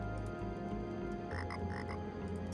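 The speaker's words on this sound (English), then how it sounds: "Orange frog." Croaking of an orange frog in the fantasy dungeon game Tower of Time, a steady low repeated croak with a brighter burst of calls midway, heard alone against the game's ambient backdrop.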